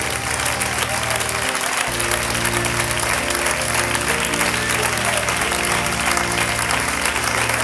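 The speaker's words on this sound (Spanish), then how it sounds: "Puede darle un aplauso al Señor." Church congregation claps together in praise during a Spanish-language evangelism sermon, a loud, sustained wash of applause mixed with background music and voices running the whole way through.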